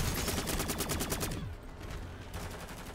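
Rapid automatic bursts from an M4 rifle in Modern Warfare 3 Zombies, a loud, dense rattle of gunfire that cuts off halfway through, leaving a quieter game background.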